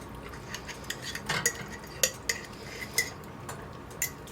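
Pre-cooked home-canned ground beef broken up in a pan, with a utensil scraping and tapping against the metal in irregular clinks over a low steady background hiss.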